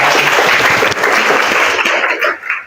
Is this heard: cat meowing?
no